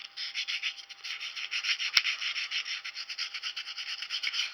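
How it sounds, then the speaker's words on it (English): Fine 220-grit sandpaper rubs over an antler plaque in steady, rapid back-and-forth strokes, a close, continuous raspy scratching with one sharp knock partway through. "Now I went to 220, the fine sandpaper, and I'm going to go through and just any of these little small imperfections I'm going to sand over."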